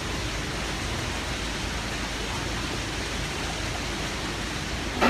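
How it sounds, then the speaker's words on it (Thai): Rain falls in a steady, continuous hiss with no pauses, fairly loud and even throughout, with a brief bump right at the end. "ฝนตกแล้ว"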